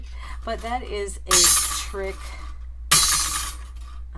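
Metal cutting dies dropped onto a crafting surface give two sharp, loud clattering bursts of clinking metal, with a person talking between them.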